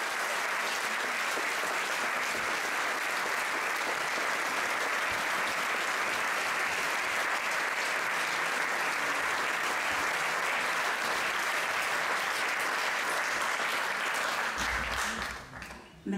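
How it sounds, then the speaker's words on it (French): Sustained thunderous applause from a theatre audience at a stage show, a dense, even wall of clapping that holds for about fifteen seconds before fading quickly at the end. "J'invite maintenant Somalie à monter sur scène sous un tonnerre d'applaudissements"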